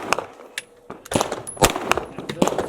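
A Canik SFX Rival pistol fires at a shooting range, several sharp shots cracking in an irregular rhythm with metallic clinks and a background voice between them.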